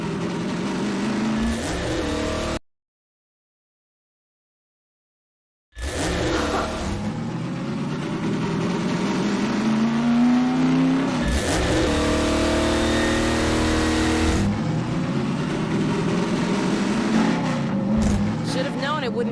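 A vehicle engine in the video game Half-Life 2 drones and revs continuously while driving down a road, loud and steady with shifting pitch, broken by a few seconds of total silence, with speech over it.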